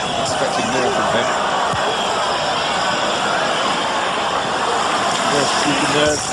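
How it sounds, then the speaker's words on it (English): Football stadium crowd at a 1997 France versus England match, a continuous loud wash of whistling and jeering from the stands at a player in possession, with commentators talking over it throughout. "every time Djorkaeff gets possession of the ball, he's greeted with whistles from the crowd"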